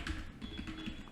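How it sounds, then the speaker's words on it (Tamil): Typing on a computer keyboard, a quick run of light, uneven key taps, fairly soft and close, with no speech over it. "blogger.com டைப் பண்ணி"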